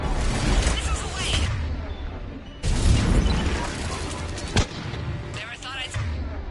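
Missiles launch and explode in the Mass Effect video game, with heavy booming blasts and rumbling roars that hit near the start and again midway, plus a sharp crack later, under a speaking voice.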